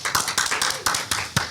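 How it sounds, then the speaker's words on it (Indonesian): A few sharp, evenly spaced claps from a studio audience welcoming a guest onto an Indonesian talk show, close and brief like a short ragged round of applause. "tepuk tangan semuanya ya"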